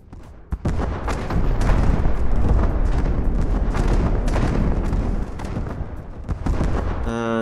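A volley of cluster bombs bursts against a stronghold in the naval combat game From the Depths, a dense, continuous barrage of overlapping booms and crackling blasts, loud and sustained after one early sharp hit.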